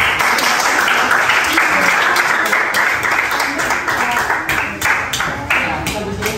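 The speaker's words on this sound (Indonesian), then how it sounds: "Beri tepuk tangan kelompok" A school class in Indonesia applauds a student group after their presentation, producing sustained, dense clapping that stays loud and close throughout, with faint voices mixed in.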